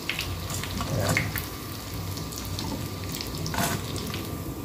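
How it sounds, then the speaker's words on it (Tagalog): Tofu and kangkong sautéing in hot oil in a pan, a continuous close crackling sizzle with occasional louder spits and a faint watery undertone throughout, no voices. "Nagigisa na tayo."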